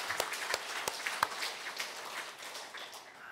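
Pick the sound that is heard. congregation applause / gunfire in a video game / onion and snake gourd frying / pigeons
congregation applause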